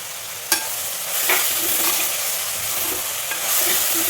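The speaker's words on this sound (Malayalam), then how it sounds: "തക്കാളി ഇട്ട് നല്ലതുപോലെ ഇളക്കാം" Chopped tomato stirred into softened frying onions for an okra curry, giving a steady close sizzle with a few sharp spoon clicks against the pan.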